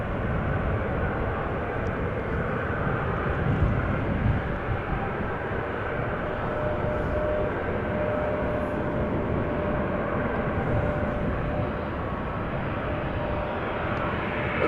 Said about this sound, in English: the beautiful Azzurro from ITA Airways. A320neo going to Rome